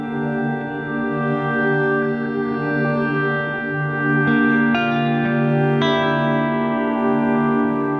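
Distorted electric guitar through a Crazy Tube Circuits Hi Power overdrive pedal rings out in sustained chords, with two fresh strums near the end layering over the drone.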